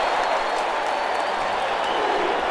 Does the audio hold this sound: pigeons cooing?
no